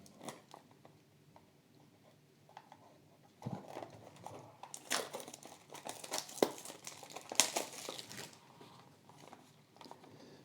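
A Mini GT die-cast model car package being cut open, crinkly plastic and cardboard tearing and slicing in quick irregular bursts, close and moderately loud, growing busier midway, with no talking.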